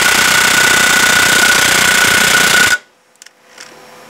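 A Milwaukee M12 FUEL brushless impact wrench hammers on a car wheel nut, a loud, steady rattling burst lasting under three seconds that stops abruptly, followed by a few faint clicks.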